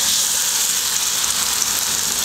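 Batter deep-frying in hot oil, a dense, even hiss and crackle that stays close and steady throughout, with no voices.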